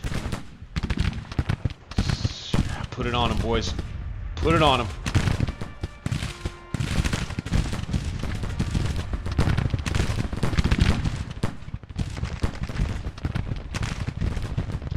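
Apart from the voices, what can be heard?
cannon and artillery fire in Grand Tactician video game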